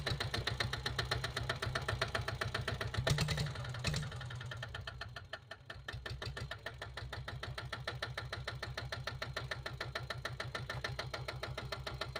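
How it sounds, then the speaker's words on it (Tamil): Royal Enfield Diesel Bullet motorcycle, a 7.5 HP diesel, kick-started and then idling with a steady, loud, knocking thump that carries on throughout, with a brief dip in the rhythm partway through. "இப்போ வண்டி கிக் ஸ்டார்ட் பண்ணி காமிச்சிடுறேன் வாங்க."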